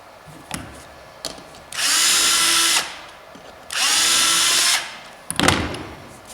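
A power drill driving screws into door hinges during a door install, with two sustained whirring bursts of about a second each, close and loud, separated by quiet handling clicks and bumps.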